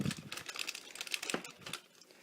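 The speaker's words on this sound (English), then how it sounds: "I have parchment paper over the top of the mag light to diffuse the light, and that was the crunch." Parchment paper stretched over the top of a Maglite flashlight crunches and crinkles in a quick run of small, dry crackles and ticks, quiet and close, fading at the end.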